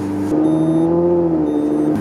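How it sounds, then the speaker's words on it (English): A Lamborghini Murcielago with a cold engine revs up in the snow, its deep, loud engine note rising and holding steady for about two seconds before the throttle drops away. "you probably shouldn't rev it because I got so much hate on revving a cold engine"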